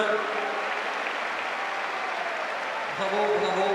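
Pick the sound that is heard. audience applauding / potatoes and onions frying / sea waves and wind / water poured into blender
audience applauding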